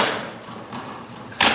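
Weapon blows on shields during combat at a medieval-style crown tournament: a steady rumble of crowd noise, then one loud, sharp crack near the end.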